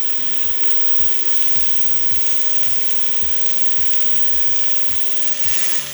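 Poblano peppers sizzling and frying in a pan, a steady close hiss with crackling and rhythmic scraping or clicking throughout, with no voices.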